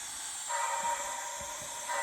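An On30 model steam locomotive with a Tsunami sound decoder gives a steady close hiss, with louder bursts of venting steam in short pulses and faint clicks underneath.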